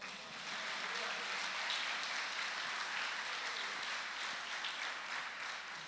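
A church congregation claps in steady, sustained applause, a dense even wash of many hands at a moderate distance, with no speech over it.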